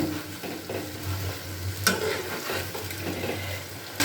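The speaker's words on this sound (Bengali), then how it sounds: "খুব ভালো করে নাড়াচাড়া করে নিচ্ছি করে নিয়ে আর একটুখানি এটাকে আমি ফুটিয়ে নিচ্ছি খোলা অবস্থায়" Dhaniya chicken gravy with coriander leaves simmering uncovered in a pan, a steady low bubbling sizzle with soft stirring scrapes and one sharper utensil knock midway, no voices.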